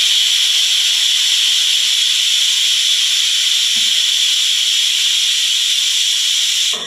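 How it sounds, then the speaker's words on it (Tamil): A pressure cooker on a gas stove, cooking ghee rice and chicken gravy, lets out its whistle as a steady, loud, continuous high hiss of escaping steam that runs unbroken for several seconds. "ஒரு விசில் வந்துருச்சு."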